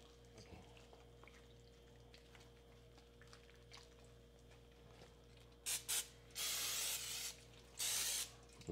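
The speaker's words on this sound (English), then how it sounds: "we're going to spray our turkey with some Pam." Pam cooking spray misted onto a turkey before a rub goes on for a Kamado Joe rotisserie cook: a few short hissing bursts, then two longer sustained sprays, close and loud over a faint low hum, with no talking.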